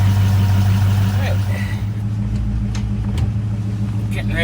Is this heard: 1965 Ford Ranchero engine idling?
yes